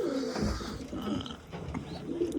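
Pigeons in a home loft with chicks and eggs give soft, low cooing calls that rise and fall across a couple of seconds, fairly close, with faint rustling and no talk.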